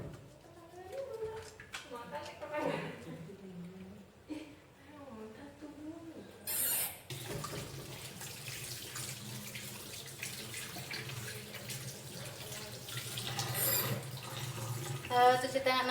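Hands are washed with soap under running tap water in a laboratory practical exam, with water splashing steadily in a sink while a person speaks early on, then the flow continues alone.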